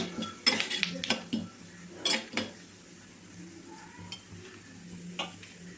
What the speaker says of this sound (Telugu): ఆయిల్ అయితే హీట్ అయింది కొంచెం ఆవాలు చూడండి ఆవాలు చిటపట్లు అన్న తర్వాతనే జీలకర్ర పచ్చిపప్పు మినపప్పు